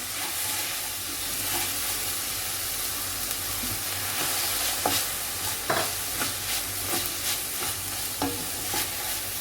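Spicy masala frying in a pan with a splash of stock, a steady sizzle and hiss broken by louder scraping stirs from around five seconds on, heard close with no talking.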